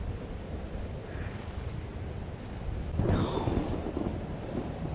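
Thunder in Life is Strange: Double Exposure rumbles low beneath steady rain and wind, then swells into a louder crash midway through, with no talk over it.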